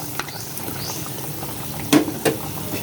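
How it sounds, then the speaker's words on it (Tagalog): A pot of pork adobo bubbles at a low simmer, with soft popping and a couple of sharper knocks or clinks near the end. "Kumukulo na siya."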